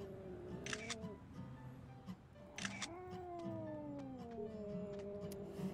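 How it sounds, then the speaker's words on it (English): In the horror game DreadOut 2, a cat meows twice, each cry followed by a sharp camera shutter click, with quiet ambience in between. "Alright, cat. Say cheese."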